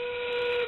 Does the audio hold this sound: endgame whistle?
yes